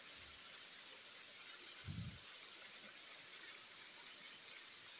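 Rainwater gushes along flooded Karachi streets during a heavy downpour, a steady, faint broadband rush that stays constant throughout, with one brief low thump near the middle.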